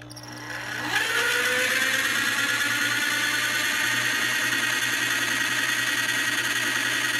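A motor spins up a rotating magnet and rotor apparatus, a shaft turning in a metal bearing at about 625 RPM, starting with a rising whine and settling into a steady, loud, high-pitched whir and hum with no talking.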